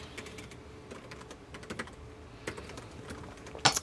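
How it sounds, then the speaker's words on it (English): Soft, rapid keystrokes on a Framework 13 laptop keyboard click in an uneven patter, quiet and close, with a sharper tap near the end. "It's clicky, it's smooth, and it feels really nice to type on."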